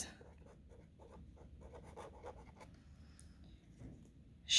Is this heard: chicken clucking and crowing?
no